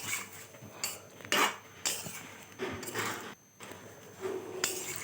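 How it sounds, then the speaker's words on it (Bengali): Potatoes with spice paste in a pan for a Bengali aloo dum, water poured in amid scattered clinks and scrapes of utensils against the pan and nearby kitchen clatter, close and moderately loud with no talking. "এবার একটু জল দেব যেহেতু এটা সেদ্ধ আলু তাই খুব বেশি জল দেব না"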